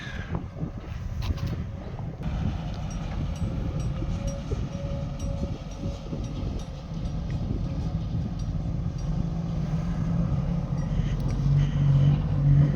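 A large Mitsubishi six-wheel truck on 11R tyres, with a 195 engine, climbs a steep pit with a loud, steady engine drone and rumble under wind noise.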